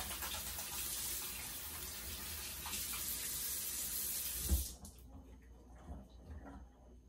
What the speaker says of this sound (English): I'm just taking a handful and giving it a nice rinse.